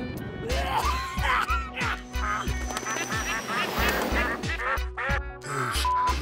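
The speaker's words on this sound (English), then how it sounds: "Look at those ducks, dude." Several cartoon ducks quack loudly and repeatedly in a busy outdoor scene, overlapping calls with a steady rhythmic beat running underneath.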